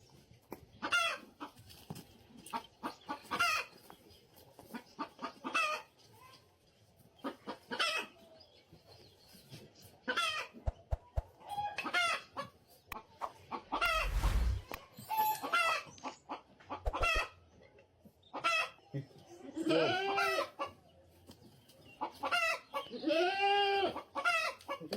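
A hen clucks and squawks repeatedly throughout, loud and close, with bursts of agitated calls and a few crow-like notes amid other farmyard fowl.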